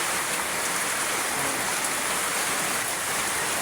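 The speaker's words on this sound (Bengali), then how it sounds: "দেখেন প্রচুর বৃষ্টি" Heavy rain falls outdoors in a dense, unbroken hiss that stays loud and even throughout, with no voices over it.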